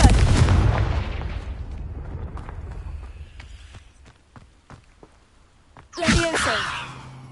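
A Confringo explosive spell cast in the Hogwarts Legacy video game: a loud booming blast at the start that rumbles and fades, then a second sharp burst with crackling tail near the end.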